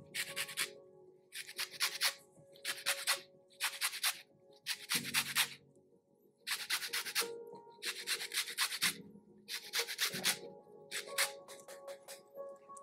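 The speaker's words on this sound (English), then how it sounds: "And then you can use the zest of another." A lemon is zested for a lamb shoulder dish, with about nine close, rhythmic rasping strokes separated by brief pauses and no talk.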